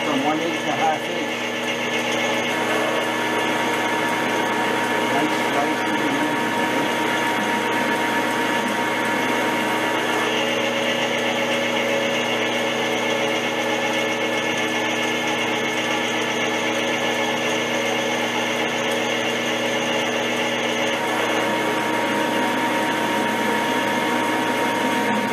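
A metalworking drill, cutting from 1/8 to 1/2 inch on a Eureka gear cutter setup, runs with a steady mechanical whine and hum throughout, fairly loud and close, with no talk.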